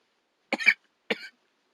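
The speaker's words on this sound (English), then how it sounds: "excuse me for the cough" A man coughs twice, two short, harsh bursts about half a second apart, close up against silence.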